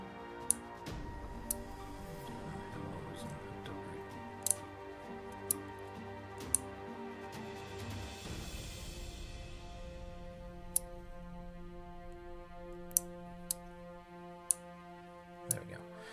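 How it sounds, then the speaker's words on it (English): Relays on an OrangePi board clicking on and off, sharp isolated ticks spaced irregularly over a steady electrical hum, faint and close, with no speech. "all that does is just click them on and off"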